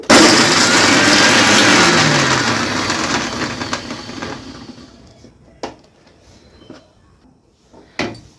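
A mixer grinder grinding spices for eggplant pickle whirs loudly for about four seconds, then winds down and stops, followed by a couple of soft knocks and clatters.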